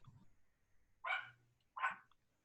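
Two short yaps from small Yorkshire Terriers come a little apart, sharp and moderately close against a quiet outdoor background.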